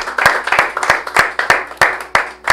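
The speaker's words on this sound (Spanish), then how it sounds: "Dale un aplauso a Jesús." A church congregation claps in a steady rhythm, sharp regular hand claps about three per second, loud and close, with a faint tone lingering beneath.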